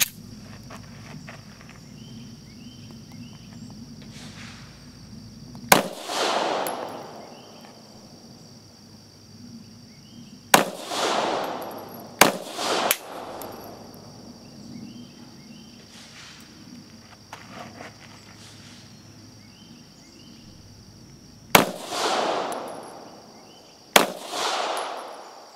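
Beretta APX A-1 and Taurus GX4 pistols fire outdoors in six sharp, loud shots spread across a quiet stretch, some in quick pairs, each with a brief echoing tail over faint insect hum.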